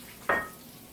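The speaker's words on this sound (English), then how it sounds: "Second you put them in there, you're going to hear that sizzle." Chicken pieces dropped into a hot pan to sauté for chicken marsala, giving a sudden close burst of sizzling that flares up and then settles into a steady hiss.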